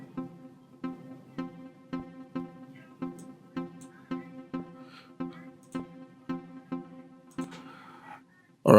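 Nexus plugin pluck sound in a deep tech house and Afro house production, a simple repeating pattern of short plucked notes at a steady rhythm, clear and alone, ending in a brief burst.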